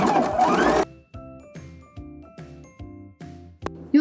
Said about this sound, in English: I'm going to be taking in the side seam of the dress here with a straight stitch.